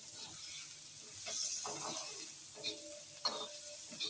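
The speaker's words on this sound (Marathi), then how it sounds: "कांदा आता मी छान परतून घेणार आहे लालसर होईपर्यंत ह्याच्यातच आलं आणि लसूण भाजायला घेतली आहे" Onion, ginger and garlic frying in a pan for a Malvani-style masala, a soft steady sizzle with a few scraping stirs, quiet and close.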